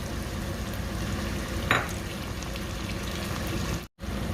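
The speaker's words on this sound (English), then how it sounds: "I'm adding the tomatoes now" Tomatoes frying in a hot pan after garlic paste for a celery and prawn curry, a steady close sizzle with a brief spike of crackle partway through and a momentary dropout near the end.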